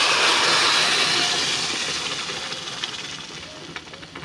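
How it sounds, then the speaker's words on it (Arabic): Blended cooked lentils with carrot, tomato, onion and garlic poured onto browned fried onions in a hot pot: a loud steamy hiss and sizzle that burst at once, then gradually fade with faint spatters. "هرمي بقى عليها العدس بعد ما ضربته بالهاند بريندر"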